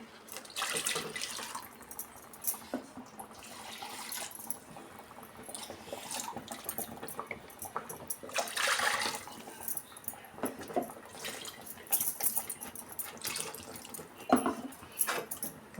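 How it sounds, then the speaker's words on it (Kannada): Quiet water trickles and splashes intermittently into a mixer jar, with faint clinks and handling sounds, fairly close and without speech. "ಜಾರ್ ತೊಳೆದು ನೀರು ಸೇರಿಸ್ಕೊಳ್ಳೋಣ"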